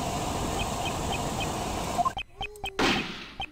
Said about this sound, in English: Ah, that was a gunshot!